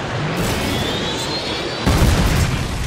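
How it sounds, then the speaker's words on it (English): Predator missile strike in the video game Modern Warfare 2, a loud rumbling boom that swells at the end over continuous dense game noise. "Repeat, predator missile ready for launch."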